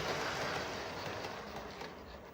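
A model freight train on a layout rolls across a single slip into a loop with a soft, steady rumble and faint clicking, which eases as it slows toward a stop. The sound is fairly quiet and close, with no voices.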